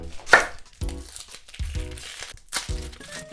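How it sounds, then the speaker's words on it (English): A knife chops an onion on a cutting board while Nikujaga is prepared in a home kitchen, giving several close, crisp cuts in an uneven rhythm with brief crinkly crunches. "we're gonna cut up the onion"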